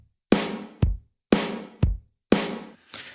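A looped drum pattern from a Groove Rider 2 sampler, alternating a bright, noisy hit with a sharp lower thump in a steady rhythm, repeating three times, close and clear with no voices.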